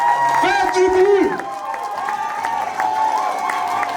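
Wedding guests cheer and applaud in a lively hall, a steady wash of crowd noise and clapping sitting beneath a voice and music throughout.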